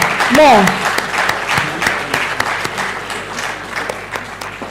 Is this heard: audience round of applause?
yes